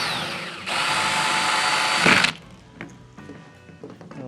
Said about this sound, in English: Alright, so we're going to drill the end cap first.